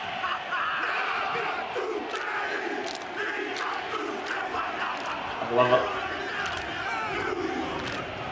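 A rugby team performs the haka war chant at the Rugby World Cup final, rhythmic shouted chanting with stamping accents, heard at moderate distance over crowd noise, with a voice remarking briefly.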